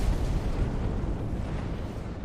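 Titan capital ship guns firing in the space strategy game Sins of a Solar Empire: Rebellion, a continuous low rumbling barrage of booms and blasts, loud and unbroken throughout.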